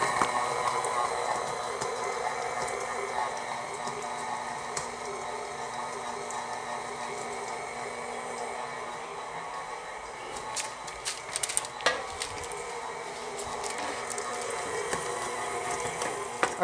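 Stand mixer with a paddle attachment steadily churning a thick no-bake Oreo ball mixture of crushed cookies and cream cheese, a continuous whirring mechanical drone with a few brief clicks and knocks near the end.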